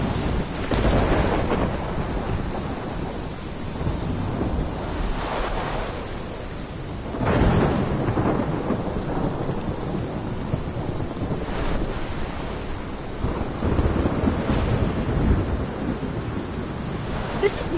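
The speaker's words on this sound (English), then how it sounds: "My storm!" A thunderstorm rages in the video game Life is Strange, with heavy rain and wind roaring continuously and several deep thunder rumbles rolling through, loud and full, with no voices.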